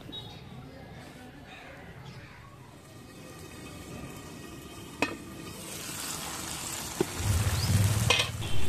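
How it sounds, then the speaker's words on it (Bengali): Masala for small-potato aloo dum frying in a covered pan over medium heat, giving a soft, continuous sizzle. The sizzle grows louder and brighter toward the end, with a couple of sharp clinks. "এইভাবে ঢাকা দিয়ে 1-2 মিনিট বন্ধুরা মশলাটাকে মিডিয়াম আঁচে ভালো করে কষিয়ে নিয়েছি"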